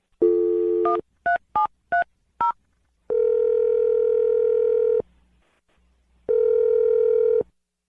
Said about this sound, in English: We're going to dial the phone number right now and try and resurrect your second date update